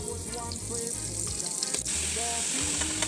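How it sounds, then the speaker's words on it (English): Butter melts in a pan with a soft, steady sizzle, alongside a faint hum and clinks in the kitchen, with no voice. "We'll put some butter in the pan to melt before we add the vegetables."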